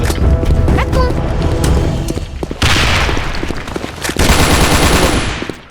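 Rapid automatic gunfire bursts and a grenade blast in the Korean online shooter Sudden Attack, loud and close, with a heavy boom near the middle and more dense firing after it, under a player's voice.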